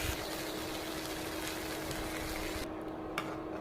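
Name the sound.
water poured into a pot for cooking khichuri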